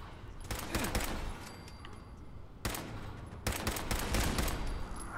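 Gunfire in Fallout 4 comes in rapid bursts: a long volley, a brief pause, then more sustained shots, fairly loud and close with no voices over it.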